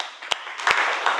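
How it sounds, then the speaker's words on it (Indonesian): A vocational school automotive class claps together, brief scattered handclaps that swell into a short burst of classroom applause, close and moderately loud, with no voices. "Oke, tepuk tangan untuk kita semua."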